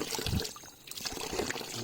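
Spring water trickles down a hillside near a resort outside Dehradun at night, a steady close splashing and gurgling flow that continues without pause.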